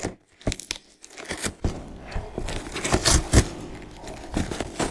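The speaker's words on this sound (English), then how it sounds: "I'm going to open this big box." A big, surprisingly light cardboard box heavily wrapped in tape being opened, with close tearing of tape and cardboard, crinkling and scraping in irregular bursts, no talk.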